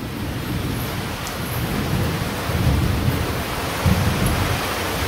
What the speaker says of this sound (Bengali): ওই যে দেখেন যে বৃষ্টি পড়া শুরু করে দিছে